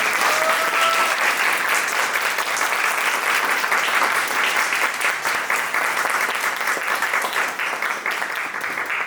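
Audience applause at the end of a lecture of about an hour and a half: dense, steady clapping from a large seated crowd, loud and sustained the whole time, easing only slightly near the end.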